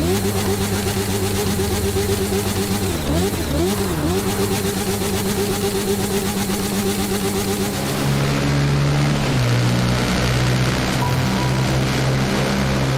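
A sport bike engine in a motorcycle video game runs loud and steady for a long stretch, with a wavering rev partway through and a lower drop in pitch toward the end, no talk.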